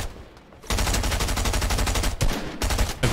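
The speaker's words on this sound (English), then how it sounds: "We just get sprayed from across the map." Fortnite gunfire in a competitive late-game arena match: a sudden, loud, sustained spray of rapid automatic shots that runs for a few seconds, with brief gaps near the end.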